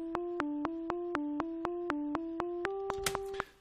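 An eighth-note triplet pattern played back in GarageBand: a string of short, evenly spaced pitched clicks at a brisk, steady pulse, about a dozen hits, clean and fairly quiet.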